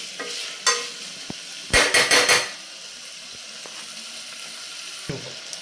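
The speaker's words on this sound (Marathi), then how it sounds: "साधारण दोन मिनटे आपण हे तेलावरती किंवा या मसाल्यांमध्ये बटाटा परतून घेऊयात छानपैकी" Potato pieces are stir-fried in oil with spices and no onion or garlic. A spoon scrapes and clatters in several quick bursts over a soft, steady sizzle.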